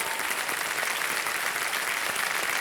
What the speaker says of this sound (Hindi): तालियां बज जाएं एक बार फिर से उनके लिए।